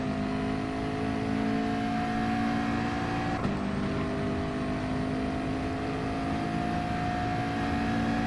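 Race car lapping Interlagos in GT Sport, a continuous loud engine whine with a brief gear-shift dip midway, held steady and close with no talk.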